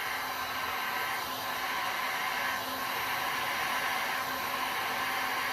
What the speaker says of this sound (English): I'll try with the heat gun.